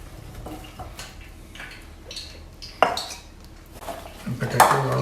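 Cauliflower and potato pieces tossed together in a bowl for Indian pakora batter, giving soft clinks and scrapes of utensils against the dish, close and moderately loud with little talk.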